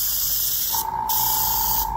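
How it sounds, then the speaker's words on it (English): A steady hiss of an airbrush spraying paint as a test after clearing a clog, continuous and close, with a faint hum running beneath it. "We test for spray."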